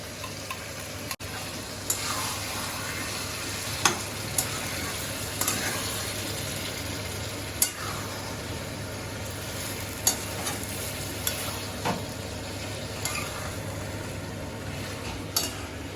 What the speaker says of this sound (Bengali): মাংসটা কষানো হয়ে গেছে এই দেখো কেমন তেল ছাড়ছে দেখেছো এই দেখো কড়াইতে তেল এবার টক দই ফেটিয়ে রাখা টক দইটা দিয়ে দিলাম